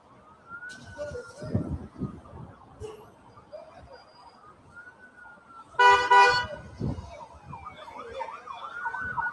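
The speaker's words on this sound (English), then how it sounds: "We are hearing sirens on the Jerusalem feed." A siren wails at a distance in Jerusalem, rising and falling over a busy background of traffic noise and a brief loud burst partway through.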